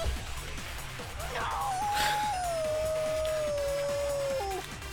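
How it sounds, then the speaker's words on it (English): A Danganronpa video game character lets out a loud, dog-like howl, a long wavering wail held for about three seconds that slides gradually downward and breaks off near the end, over a steady background music bed. "Sounds like a dog when he does that. Like a dog howling."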